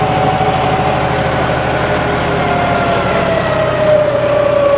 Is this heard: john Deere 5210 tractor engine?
yes